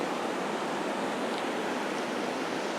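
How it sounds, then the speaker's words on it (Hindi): Sea waves wash steadily on Suryalanka beach, a dense continuous hiss of surf with no distinct breaks, moderately loud and without voices. "लहरों का शोर क्या कहने, एक अलग सा म्यूज़िकल एहसास है ये"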